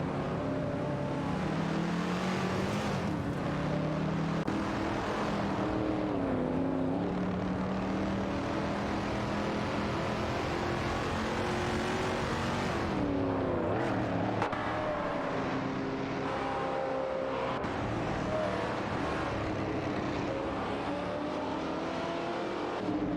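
Race cars in an AI racing video game roar past one another, a dense, continuous engine drone with rising and falling revving pitches as they overtake, loud and unbroken throughout.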